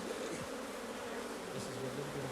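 African honey bees, Apis mellifera scutellata, buzz at a hive, with close individual wingbeat drones passing and shifting pitch over a steady background hum.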